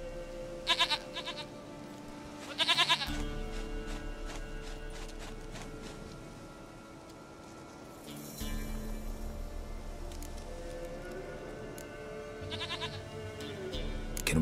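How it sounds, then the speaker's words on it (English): Goat bleats inside the video game The Witcher 3, several short nasal cries in bursts near the start and again later, set over a steady game soundtrack with low mechanical rumbling underneath. "Goat of mine, dearest, sweetest goat"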